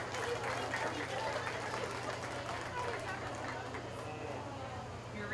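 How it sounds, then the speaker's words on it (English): Applause for 4-H feeder calf exhibitors in the show ring at the Greenup County Fair beef show. A steady, moderate patter of clapping fills the arena, with crowd murmur and a voice over it. "please give these kids another round of applause for a nice set of feeder calves"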